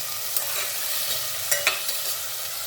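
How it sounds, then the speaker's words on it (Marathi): Peas, tomatoes and potato are sautéed in a pan for spiced rice, giving a steady close sizzle broken by a few sharp spatula clinks and scrapes, with no voices. "वटाणा टोमॅटो सर्व परतून घ्यायचं आहे"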